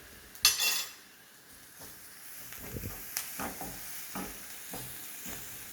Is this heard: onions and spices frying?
yes